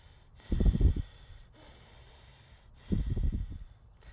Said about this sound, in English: you are going for more of a conscious and connected breath, but it's nasal breathing only